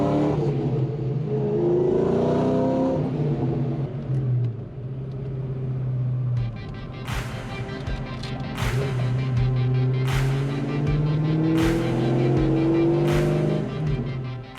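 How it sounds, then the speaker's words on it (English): A supercharged 2003 Mustang Cobra revs hard several times, a deep rumbling exhaust rising and falling in repeated bursts, close and loud. "The exhaust tone is not like any other car on the road"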